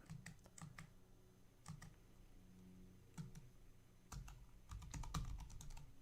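Typing on a computer keyboard: quiet bursts of clicking keystrokes in short runs separated by brief pauses, close and faint, with no talking.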